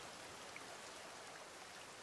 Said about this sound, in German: Und dabei regnet es doch gerade.